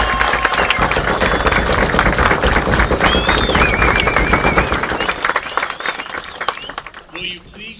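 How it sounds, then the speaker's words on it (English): Graduates at a high school graduation ceremony receive sustained applause from a crowd, dense clapping filling the space for several seconds before tapering off, with some cheering and voices mixed in. "Let us begin with a round of applause for these graduates."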